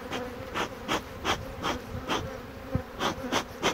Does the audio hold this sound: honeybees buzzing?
yes